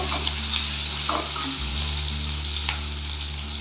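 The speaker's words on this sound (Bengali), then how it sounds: "ভালো করে নেড়ে ছেড়ে ভেজে নেব" Chopped onion fries in a pan for a fish curry, a dense continuous sizzle up close with light stirring scrapes and a low steady hum underneath.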